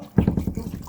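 Water gushes and splashes out of a drain pipe during plumbing work in a loud burst, pouring steadily with a gurgling rhythm.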